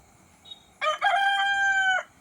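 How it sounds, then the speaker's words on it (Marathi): A rooster outside a kitchen in a Konkan home gives one loud, close crow lasting about a second, after a short faint call, against a quiet background. "हा कोंबडा मगापासून इथे किचनच्या बाहेर आहे आणि जोरजोरात ओरडतोय बघा"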